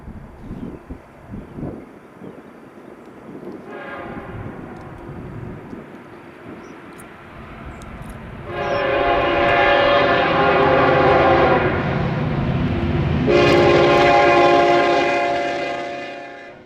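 A Kansas City Southern freight train rolls past grain silos, a low rumble building before a loud, sustained horn blows in two long blasts that rise over the passing cars.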